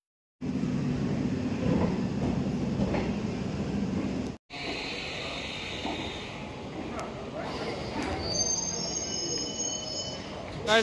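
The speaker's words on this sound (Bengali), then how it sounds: "এখন ট্রেন আমাদের ঢুকছে বিভূতি এক্সপ্রেস" The Bibhuti Express rumbles and screeches into a station, metal wheels squealing steadily, with a short break and later high-pitched brake squeals; faint voices in the background.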